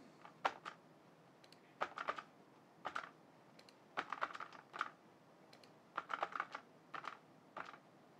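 Computer keyboard keys tapped in short irregular bursts, with a few single presses of the spacebar among clusters of rapid typing clicks, close and fairly quiet, no voices.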